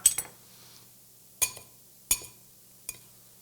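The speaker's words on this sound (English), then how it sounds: "We'll mix this together." A utensil clinks against a bowl while garlic and grated cheese are mixed together for a stuffed artichoke soup: four short, bright taps spaced apart, close and fairly quiet, with no talking.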